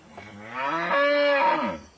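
A cow gives one long, close, deep moo that swells and then fades, with nothing else around it.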